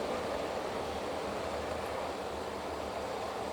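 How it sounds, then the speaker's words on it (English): A model train runs on a DC-powered layout track, giving a soft, steady rolling hum with faint noise throughout, fairly quiet and unbroken. "it allows me to have a train running, as I say, only running on DC"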